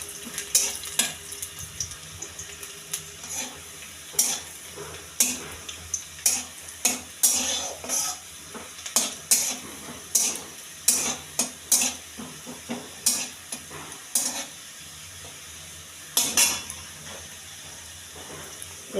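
Gentle frying sizzles in a pan under regular scraping strokes of a spatula or spoon, a series of sharp metallic stirring clinks repeating every second or so, close with no talk.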